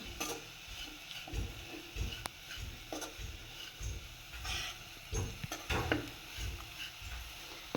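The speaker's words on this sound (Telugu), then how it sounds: "ఇలా స్లోగా కలుపుతూ ఉండాలి" Jaggery stirred slowly in a pan over a low flame, a soft continuous sizzle and hiss with quiet, irregular spoon scrapes close by.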